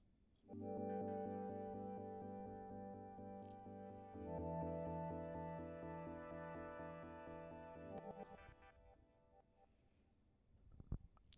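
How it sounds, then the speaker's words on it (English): A synthesizer holds sustained chords with a slow pulsing tremble, changing chord once midway, then fades to quiet with a couple of soft clicks. "So the main synth sounds like this."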